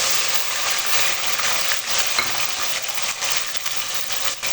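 Onion, garlic and ginger paste fry in a pan with a steady, bright sizzle and faint stirring scrapes, close and continuous, with no talking.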